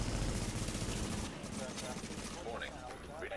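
Gunfire in the video game The Division, a dense burst of rapid shots filling the first second and a half, then thinner continuing fire and background game noise under a talking player's voice.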